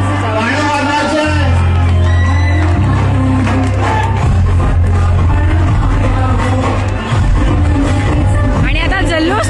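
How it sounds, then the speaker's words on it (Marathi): A crowd at a Dahi Handi festival shouting and whooping over loud music with a steady heavy bass beat, dense and continuous, with voices close and far. "आणि आता जल्लोष तुम्ही पाहत आहे."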